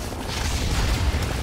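A grenade blast in Fallout 3 gives a dense, low rumbling boom that fills the moment steadily with heavy low-end energy and no clear sharp onset, with no talk over it.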